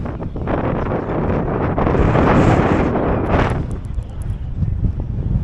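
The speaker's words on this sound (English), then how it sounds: "It's a bit windy" Strong wind buffets the microphone outdoors in Samarkand, a loud continuous roaring rush that swells in the middle and eases toward the end, with no talking.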